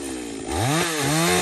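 Chainsaw cutting into the branches of a very large bush, a loud close engine that rises in pitch and revs repeatedly as the chain bites the wood.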